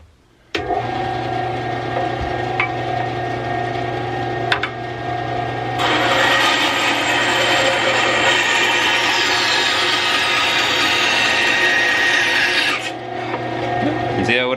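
A Wen 3.5 amp 10 inch band saw runs with a steady motor hum, then bites into wood for several seconds with a loud, harsh rasping cut before returning to its idle whir.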